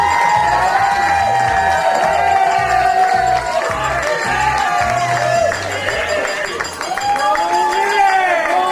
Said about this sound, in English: How about a nice round of applause for Vivek Pinto